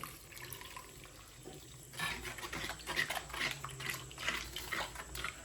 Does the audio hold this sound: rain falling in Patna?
no